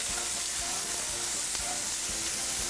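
Pre-cooked, thawed frozen bratwursts brown in a hot pan at an Oktoberfest cook-up, giving off a steady, close, loud sizzle with crackling pops and a few faint clinks, and no talking.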